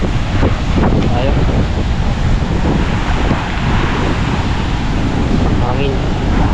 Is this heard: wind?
yes